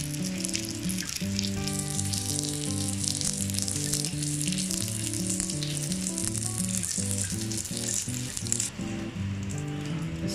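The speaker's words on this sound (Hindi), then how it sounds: "अब ये इसको हम पलटेंगे, देखें लो फ्लेम पे जो है आपने इसको बनाना है" Beef kebabs fry on a flame with a steady bright sizzle and crackle running the whole time beneath melodic background music.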